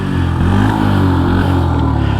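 A small Suzuki GAG 50 motorcycle engine putters and revs close by, its uneven mid-pitched buzz rising and dipping over a couple of seconds.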